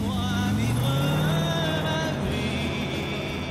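A Boss Hoss three-wheeled motorcycle drones with a loud, steady engine tone close by, its pitch climbing slightly then holding, continuous throughout without any voices.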